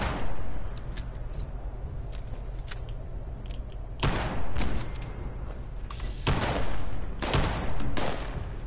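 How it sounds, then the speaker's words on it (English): A laser turret firing in Fallout 76, its shots arriving as separate sharp bursts in irregular clusters over a steady low background hum, fairly close and loud. "You shoot lasers at me?"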